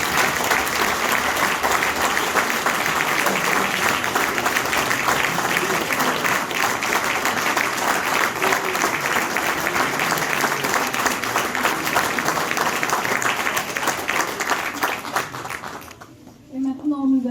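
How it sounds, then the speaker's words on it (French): Sustained applause from an audience at a municipal tribute ceremony honouring musicians, dense steady clapping lasting over fifteen seconds before fading out, with a voice briefly heard at the end. "vous pouvez l'applaudir."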